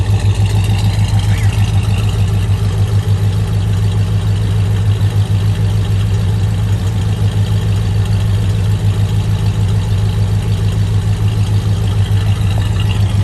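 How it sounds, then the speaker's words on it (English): A 1966 Pontiac GTO engine idling with a steady, loud, low rumble that stays even and continuous, with no talk over it. "Listen to it one more time. That engine's quiet."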